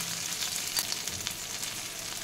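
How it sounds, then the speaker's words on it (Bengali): Onions with salt fry in a pan, giving a continuous close crackling sizzle with small pops scattered through, steady and moderately loud, no speech. "একটু ভেজে নেব। পেঁয়াজ হালকা ভাজা হয়ে গেছে"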